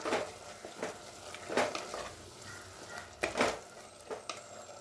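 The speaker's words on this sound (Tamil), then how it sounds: "மிளகாய்த்தூள் மல்லித்தூள் இப்போ சேர்த்துட்டு நல்லா கலந்துப்போம்" Spoon scraping through mutton keema in a pan as chili and coriander powder are mixed in, a soft repeated scrape and knock at an uneven pace, faint and near, with a light sizzle underneath and no speech.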